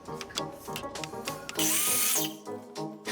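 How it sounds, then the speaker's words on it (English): A miter saw cuts through a 1x4 board. A loud whining burst of power-tool noise rises midway, set among clattering workshop knocks and handling sounds. "I'll take my other 1x4 to the miter saw and cut 2 of them to 10 3/8"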